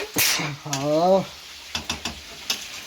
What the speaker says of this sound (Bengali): মানু কিন্তু মাংস কষাচ্ছে